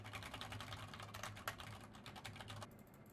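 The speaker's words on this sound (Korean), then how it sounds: "키보드 소리 한번 들어보시면" Steady rapid keyboard typing, close and clear, with a brisk irregular rhythm of key clicks and a faint low hum underneath.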